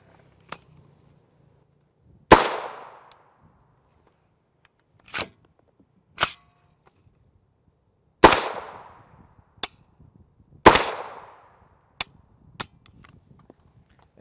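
A Ruger LC carbine fires Fiocchi 35-grain 5.7x28mm rounds at a 25-yard range, giving about five sharp, loud cracks spaced irregularly a few seconds apart, each followed by a short ringing decay, plus a few fainter clicks between shots.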